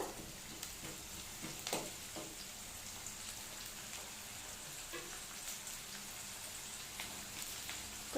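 Salted onions fry in a pan as the base for an okra dish, a faint, even crackling sizzle with a few soft stirring scrapes, steady throughout and not loud.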